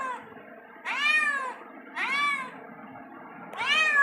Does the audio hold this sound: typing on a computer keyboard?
no